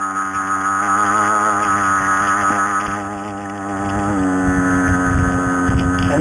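A CAG 49cc stand-up scooter engine with stock exhaust running at quarter throttle, a loud, steady, buzzing two-stroke drone that dips briefly and then rises again, with wind noise over the microphone.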